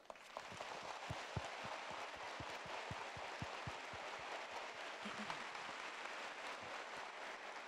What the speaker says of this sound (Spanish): si el aplauso es para la Virgen María, que sea más fuerte.